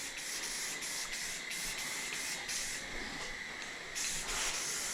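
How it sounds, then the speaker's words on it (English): A steady hissing spray of filler primer runs throughout, broken by short pulses as the nozzle is pressed and released, close and fairly loud, painting car sway bars. "filler primer is always going to look weird once you start spraying it"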